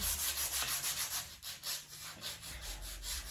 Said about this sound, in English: I'm just going to use a light sanding over the whole thing.